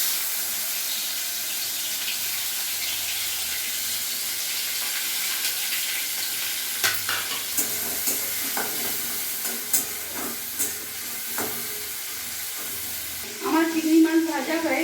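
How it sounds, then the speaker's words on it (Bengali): Prawns fry in hot oil in a wok with a soft continuous sizzle, occasional stirring knocks and clinks growing louder toward the end. "আমার চিংড়ি মাছ ভাজা হয়ে গেছে, এবার আমি এগুলো নামিয়ে দেবো।"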